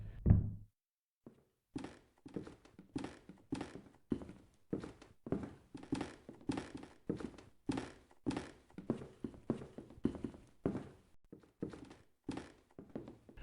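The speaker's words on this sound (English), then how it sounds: "It's footsteps coming from upstairs." Footsteps thud on the floor overhead as a staged sound effect in an audio drama set in a mansion, a long run of evenly spaced, muffled knocking steps after a brief low bump at the start.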